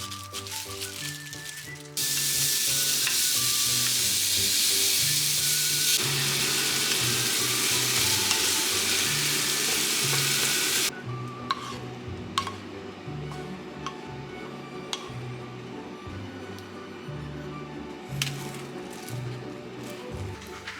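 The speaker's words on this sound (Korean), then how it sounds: "안에 토핑으로 소고기 볶아서 넣어줄 거거든요" Beef sizzles loudly in a hot pan, a bright hissing fry that swells for several seconds before settling, with clinks and scrapes of stirring.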